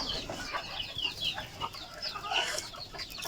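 A sick chicken with a cold makes raspy, gurgling breaths mixed with soft clucking nearby, heard continuously over a faint background hum.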